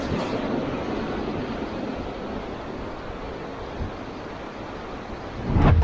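Steady roar of surf off the Minami-Boso coast, Japan, with waves washing in continuously, broadband and fairly loud, a brief surge of water near the end.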